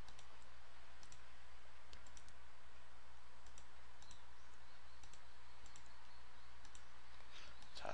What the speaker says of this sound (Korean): 클릭 한번 해볼게요.